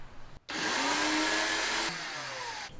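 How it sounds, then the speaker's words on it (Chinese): A high-speed blender grinds pandan leaves for kaya with a little coconut milk, starting abruptly into a loud, whining roar that holds, drops slightly in pitch partway through, then cuts off near the end. "这个破壁机没有水，但是安迪不敢放太多水"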